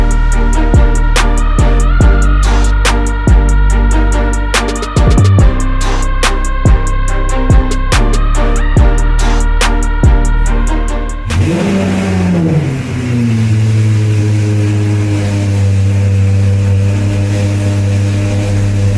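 Lamborghini Aventador SVJ fitted with a new exhaust, revved hard in a rapid series of loud, sharp throttle blips and crackles, then settling into a droning high idle after a sudden change in tone, echoing indoors in a building.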